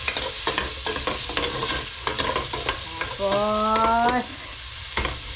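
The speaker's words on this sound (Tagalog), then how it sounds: "magsusutay na tayo ng sibuyas" Onions sautéing in a pan while a spatula stirs and scrapes, giving a steady sizzle broken by clinking strokes, with a brief tonal squeak partway through and a short spoken word near the start.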